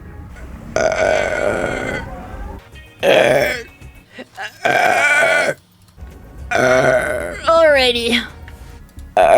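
Several loud, close burps from a woman streamer, spaced between bursts of her voice, with one drawn-out rippling belch near the end.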